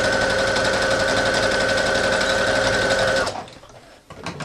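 A sewing machine stitches fabric in a fast, steady mechanical whir for about three seconds, then stops abruptly, leaving faint handling clicks and small rustles.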